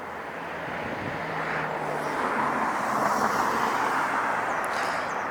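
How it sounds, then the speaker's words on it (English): A heavy jet airliner taking off at LAX airport, its engine roar a loud, steady broadband rush that swells gradually and holds throughout, with no voices. "So it's going to be a takeoff and a landing."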